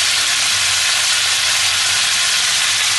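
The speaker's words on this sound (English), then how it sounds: "I'm just gonna fry all this together" Lamb and vegetables fry together in a pan for a lamb-in-tomato-gravy dish, giving a steady, loud, broadband sizzle that holds unbroken throughout, with no talking.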